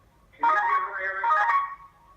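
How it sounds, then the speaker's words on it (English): A mobile phone ringtone rings during a video call, a clear, close tonal melody lasting about a second and a half over faint room noise. "There's a ring. That's my phone."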